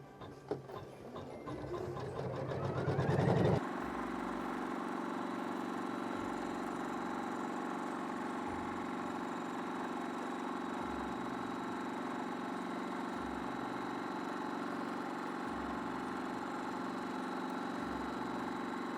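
A sewing machine stitches a continuous line, a steady mechanical whir with a rhythmic needle chatter that runs unbroken for most of the clip after a brief start-up.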